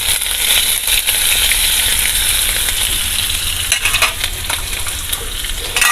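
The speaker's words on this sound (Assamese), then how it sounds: "মই এইখিনি অকণমান সময় ভাজি ল'ম।" Chopped green chillies, ginger, cardamom and bay leaves fry in hot oil in a pan for shahi paneer, giving a loud, steady sizzle with scattered clinks and stirring scrapes, close by with no talk.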